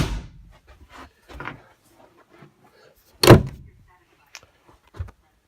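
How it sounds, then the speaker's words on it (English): Aboard a 1989 Tollycraft 34 Sport Sedan, a shower door in the enclosed head closes with a single sharp thud near the middle, framed by a few softer knocks and rattles in a quiet cabin. "with a door that closes."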